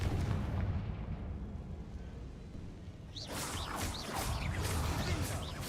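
Confringo fire spells burst in Hogwarts Legacy combat, with a heavy rumbling blast followed by a rapid series of sharp crackling explosions over dense background noise.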